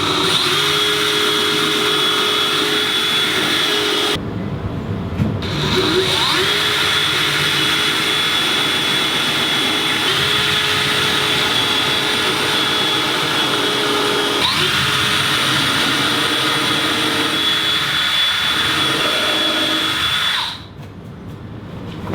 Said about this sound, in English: I can go ahead and drill a little bigger hole.